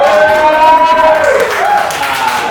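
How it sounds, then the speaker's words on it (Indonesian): Audience applause at an Indonesian podcast recording featuring policewomen, a steady, loud wash of clapping with cheering voices rising over it, continuous for the whole stretch. "tepuk tangan dulu buat Bapak"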